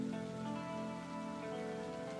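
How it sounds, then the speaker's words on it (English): Rain falls in a Honkai Star Rail trailer, soft and faint beneath sustained tonal music, with a light continuous patter. "Is it raining?"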